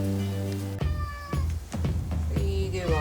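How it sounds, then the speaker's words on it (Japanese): A house cat meows several times in close succession indoors, loud and near, with drawn-out tonal cries and a faint background hum before the first call. "猫がねニャイニャイ言う"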